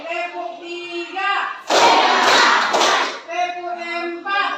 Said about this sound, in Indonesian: yaitu nama tepuknya tepuk semangat